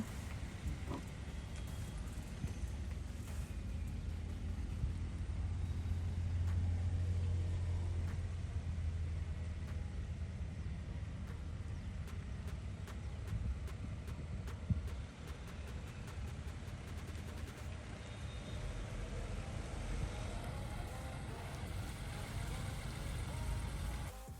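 A Citroen C3 car being driven at night gives a steady low road rumble with engine drone throughout and a brief knock partway through.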